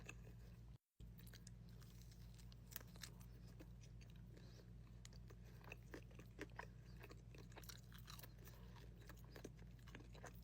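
McDonald's McPizza Bites chewed close to the mic, with soft wet crunches and mouth clicks scattered over a quiet room hum and a brief dropout near the start.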